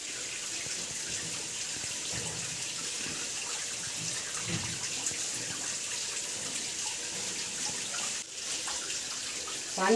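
Natural mountain water runs steadily out of a hillside, a continuous splashing flow like an open tap that stays fairly loud and even throughout, with a brief dip near the end and no talk over it.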